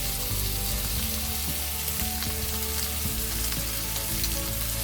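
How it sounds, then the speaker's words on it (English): A ribeye steak sizzles in oil in a pan, giving a dense, constant crackling hiss that stays loud and close throughout, with no voices. "Make sure the oil is surrounding the steak, and we're just going to let it sit."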